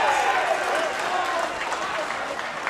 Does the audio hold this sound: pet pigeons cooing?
no